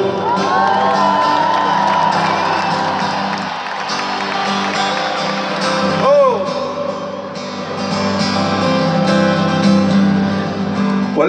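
Huge stadium crowd at a concert in Lyon cheering and screaming loudly and continuously, with whoops rising above the roar and a voice briefly audible over it.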